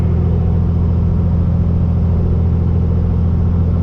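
Custom Peterbilt semi with straight pipes and an 18-speed transmission, pulling a loaded liquid tank, accelerating on throttle: a loud, steady, deep diesel rumble and drone that holds for the full stretch with no voices over it.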